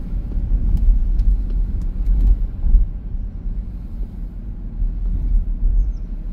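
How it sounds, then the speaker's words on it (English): Steady low engine and road rumble inside a banged-up 2013 BMW 325i cruising from San Luis Obispo to Morro Bay, a continuous close drone with no voices. "We're driving from San Luis Obispo to Morro Bay."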